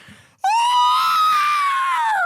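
A voice imitates a sibilant shriek for a scream in a Conan fantasy tale: one loud, sustained, high wailing cry that holds steady for about two seconds, then tails off. A short quiet stretch comes before it.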